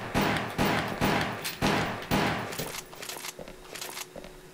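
Automatic pistol fire in Resident Evil Umbrella Chronicles: a string of loud, evenly spaced shots, five heavy reports followed by lighter, quicker pops that fade toward the end.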